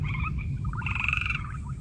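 Rabbs' fringe-limbed tree frog calling in a forest, a couple of bright, rattling croaks over a steady low rumble of background noise.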